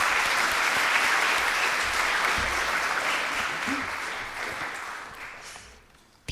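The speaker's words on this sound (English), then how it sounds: "and a big round of applause." Audience applause at a school awards ceremony, a dense, even clapping from a full room that slowly thins and fades out over several seconds.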